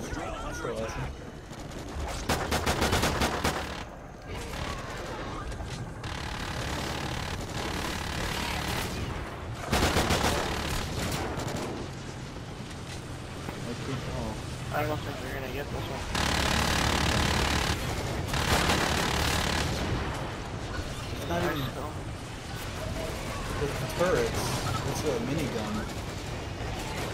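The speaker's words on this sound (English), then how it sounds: "I'll go get on a sentry gun." Sentry gun fire from Call of Duty Extinction in a co-op match, heard as repeated bursts of rapid automatic shots and booms that run on and off throughout, with players talking over the fighting.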